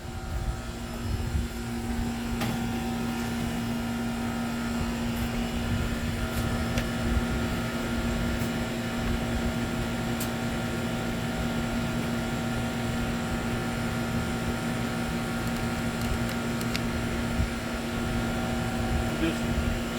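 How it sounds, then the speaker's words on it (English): A loud air conditioner runs outdoors beside a backyard smoker, giving a steady, unbroken hum with a strong tonal drone that lasts the whole stretch at an even level. "Sorry for the air conditioner, it's going to be a little loud."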